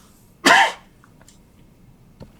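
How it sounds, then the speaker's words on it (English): One sharp, close cough into a microphone at a taxpayer agent registration panel meeting, followed by quiet room tone and a faint breath or click near the end. "Sorry, I don't want to cough into the microphone."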